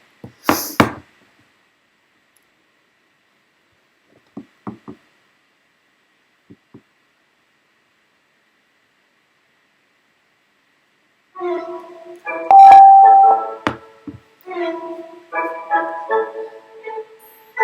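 A few scattered knocks and long silence, then lively can-can dance music starts up loudly near the end.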